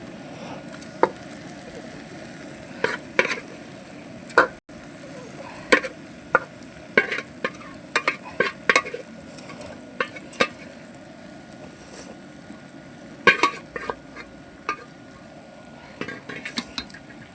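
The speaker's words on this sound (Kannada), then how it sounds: "ಈಗ ತೆಗೆದಿಟ್ಟ ಮಸಾಲೆನ ಹಾಕೊಳ್ಳೋಣ." Masala is added and stirred into a pan for fish biryani: a quiet background sizzle with repeated sharp scrapes and clinks of a utensil against the pan, irregular and close.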